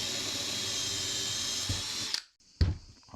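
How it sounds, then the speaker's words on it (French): A power drill bores a hole through a wood scrap, a loud steady whine that cuts off abruptly, followed by a short burst as the drill restarts briefly. "Et cette chute, on va la percer ici."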